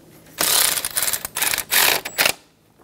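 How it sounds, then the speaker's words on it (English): Close, loud clicking of a ratchet wrench snugging down the bracket bolt on a 2010-2014 Subaru Outback 2.5L H4, heard as several quick bursts of pawl clicks separated by short pauses, with no talking. "Snug down the bracket bolt."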